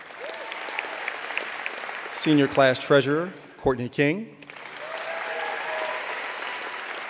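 Applause from a high school commencement audience, a broad steady wash of clapping behind a man reading names of senior class officers at the 2014 George Mason High School ceremony.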